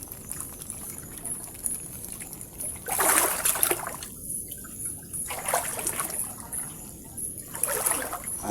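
Water trickles and dribbles out of a container while shrimp are being caught, with soft intermittent splashy pours over a quiet outdoor background.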